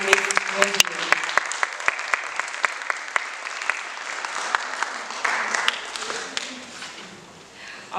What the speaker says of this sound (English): can we give a big, huge round of applause for Ms. Rosalind?